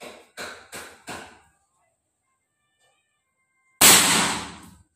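Four sharp, close impact cracks in quick succession from an UQ Ultimate air rifle during an accuracy test, then a pause before one louder, broader burst that trails off over about a second.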